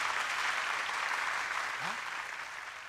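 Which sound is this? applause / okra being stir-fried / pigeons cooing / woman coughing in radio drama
applause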